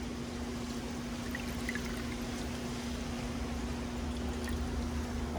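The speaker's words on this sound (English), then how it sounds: "take a glass bowl or any kind of bowl, and you are going to fill the entire thing up with the hydrogen peroxide" Hydrogen peroxide is poured into a glass bowl, a steady soft trickling and splashing stream running continuously at close range, with no talking.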